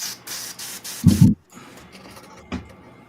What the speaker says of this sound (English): cleaning out my airbrush real quick